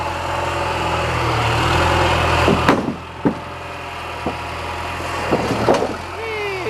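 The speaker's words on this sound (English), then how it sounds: "It's a beautiful thing, an old John Deere." An old John Deere engine runs with a low, steady rumble, loudest at first, while several sharp knocks and clunks sound nearby and someone talks.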